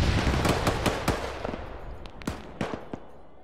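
Ammunition cooking off inside a burning A-10 aircraft in the military video game Arma 3, heard as a loud, irregular string of sharp pops and cracks spread over a few seconds, with no talking.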